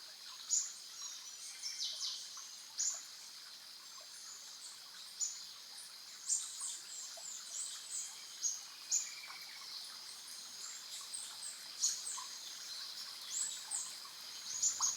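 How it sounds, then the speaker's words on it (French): Small birds sing in a forest, bright chirps and tweets repeating at scattered intervals over quiet background, fairly faint and distant. "Le chant des oiseaux semble se rapprocher, comme s'il emplissait tout l'espace."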